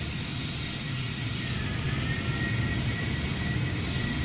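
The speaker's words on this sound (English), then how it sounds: "I still need to turn down external airplane sounds." External engine sound of a regional jet in Microsoft Flight Simulator 2020, a steady loud whine and broadband roar that holds constant throughout with no talk.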